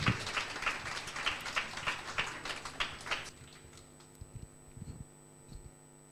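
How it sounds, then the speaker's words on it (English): Audience at a youth mental health summit gives a round of applause, dense clapping for about three seconds that then cuts off, leaving a faint room hum and a few scattered sounds. "Another round of applause."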